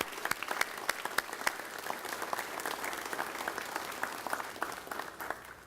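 A roomful of people applauds HealthPlan Services staff at a Tampa expansion event, with sharp individual claps standing out over a dense, fairly quiet wash of clapping that runs the whole time.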